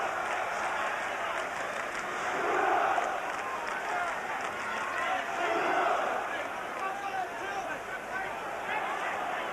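A boxing match crowd roars as a steady, distant wall of noise with swelling cheers, running under a commentator talking throughout.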